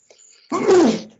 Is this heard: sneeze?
yes